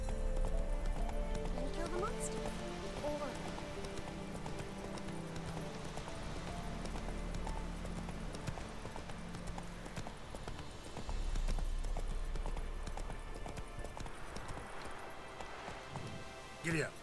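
A horse galloping in The Witcher 3: Wild Hunt, rhythmic hoofbeats pounding steadily under game ambience and music, with a voice talking over it.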